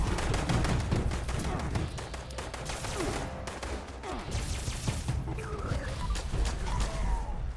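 Sustained rapid gunfire from a player's weapon in Fallout 76, loud, dense bursts of shots running throughout with little pause.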